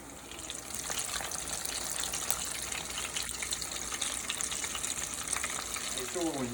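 Chicken tenders bubbling and frying in hot oil, a steady, dense sizzle with crackling pops that holds at an even level from start to finish, with no talk over it.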